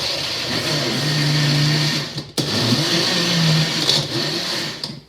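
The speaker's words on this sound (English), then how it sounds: "in a little blender like this" A small blender purees tomatoes with salt in a steady, loud motor whir lasting a few seconds, pausing once and then restarting, with no talking.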